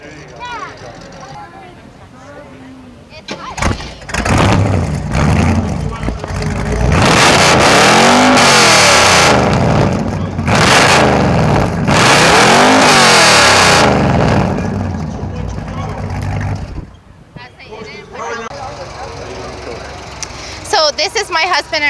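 A 1935 Chevy pickup truck with a big exhaust revs hard at a car show, loud repeated rising and falling engine bursts over several seconds, with crowd chatter before and after.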